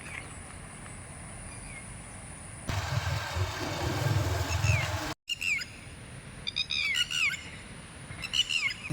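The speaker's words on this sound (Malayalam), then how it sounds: "ധാരാളം പക്ഷികളുടെ സൗണ്ടുകളും ഇതേപോലെ ആസ്വദിക്കാൻ കഴിയും" Birds call in a forest near a Kerala temple, with repeated clear chirps and whistled tweets, sparse at first then more frequent. A brief louder rumbling stretch and a short dropout break the middle.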